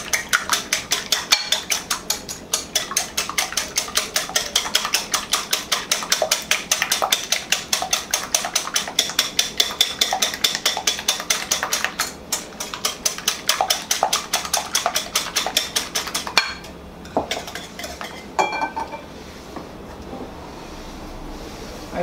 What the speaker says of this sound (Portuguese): E aqui eu vou bater esses ovos com o sal.